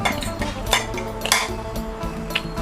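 Meatballs and Isan sausage fried rice being stirred in a metal pan, with repeated clinks and scrapes of a utensil against the pan in an uneven rhythm, close and fairly loud.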